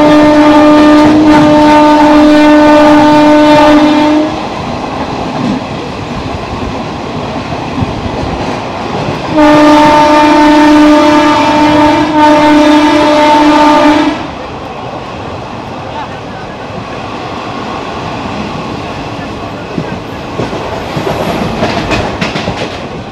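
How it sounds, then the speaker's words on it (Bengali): A passenger train on the Howrah to Digha line pulls away from Santragachi station, rumbling and clattering steadily. Two long, loud horn blasts sound close by, the second after a short pause, over continuous wheel and carriage noise. "আর এই মুহূর্তে দেখো সাঁতরাগাছি ছেড়ে আমাদের ট্রেন এগিয়ে যাচ্ছে"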